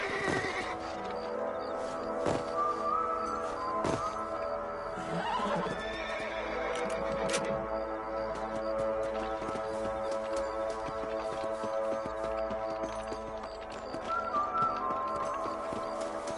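In a Red Dead western video game, a horse whinnies loudly over steady clip-clopping hooves and rattling tack, with a faint game music bed and no talk.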